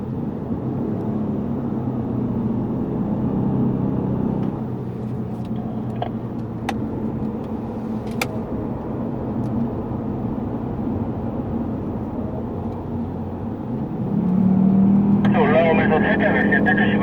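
A Lexus GS450h hybrid sedan runs on the Yongin Speedway track at a moderate, steady pace. Its engine and road noise hum under continuous talk inside the car, and the engine swells louder near the end as it accelerates.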